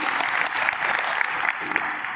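An audience at a public speech claps hard and steadily, a dense sustained wash of many hands filling the room, with no voices over it.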